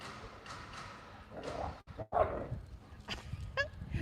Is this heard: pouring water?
no